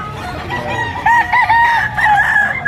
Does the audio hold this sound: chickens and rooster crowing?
yes